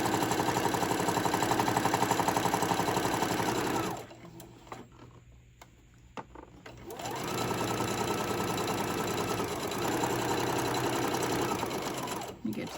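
Sewing machine stitching tote bag panels together, a fast, even mechanical whir that runs steadily, stops briefly for a few seconds, then starts again and runs on close and clear.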